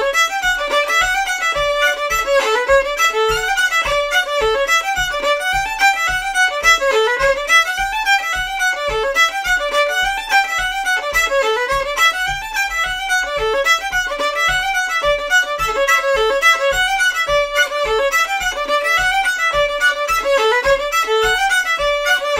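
Acadian fiddle tune "Rabestan" as played by Lisa Ornstein: a lively bowed melody over a steady, evenly spaced low beat, continuous and clear without any talking.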